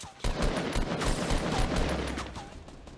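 Rapid gunfire bursts ring out in a Fortnite match, a dense volley of loud repeated shots over about three seconds with no pauses, and no voices.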